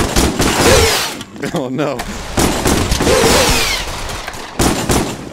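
Gunfire in the VR game Pavlov VR, a run of close, loud shots with brief gaps, mixed with game noise and a short spoken exclamation.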